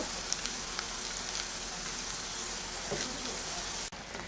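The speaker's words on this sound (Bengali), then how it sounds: "এগুলোকে সাবধানে একটু ঘুরিয়ে ফিরিয়ে ভেজে নিচ্ছি এগুলো ভাজতে একটু সময় লাগে" Evening snacks deep-fry in hot oil, a steady close hiss and crackle of sizzling that runs throughout without pause, with a brief clunk near the end.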